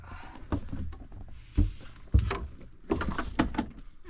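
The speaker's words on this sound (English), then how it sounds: "I gotta close the door" A door is pushed shut nearby, landing as a couple of dull low thuds among shuffling and knocking handling noise, with no voices.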